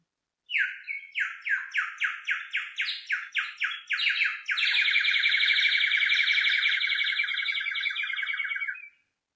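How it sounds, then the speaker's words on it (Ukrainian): A songbird-like call repeats as a string of about a dozen evenly spaced bright chirps, then runs into a long, loud, rapid trill that stops abruptly. It is clear and close, with nothing else heard. "Пісня птахів навкруги розлилася, так же весна на землі почалася."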